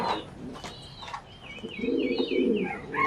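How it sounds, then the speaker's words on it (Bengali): A pair of blue potter magpie pigeons coo softly at close range, their low rolling coos rising and falling alongside a few faint chirps in the background. "দ্বিতীয় জোড়া ব্লু পোটার মেকপাই কবুতর দেখতে পাচ্ছি"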